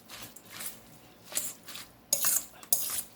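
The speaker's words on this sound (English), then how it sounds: "I'm gonna mix this baby until all the flavors" A salad seasoned with salt is tossed and stirred in a bowl, giving a few soft, moist clattering and rustling bursts, close and fairly quiet, spaced irregularly with short pauses between them.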